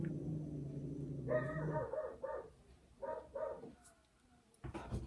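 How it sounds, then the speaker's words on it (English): A dog barks indoors in a few short, sharp bursts with gaps between them, faint to moderate in loudness and close by. "No more barking, enough."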